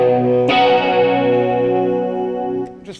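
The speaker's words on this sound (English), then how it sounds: "It's an old vintage ADA flanger." A guitar run through a vintage late-1970s ADA flanger pedal on a rock guitarist's pedalboard: a loud chord struck and left to ring, swirling and sweeping as it slowly decays, followed by a short soft rustle.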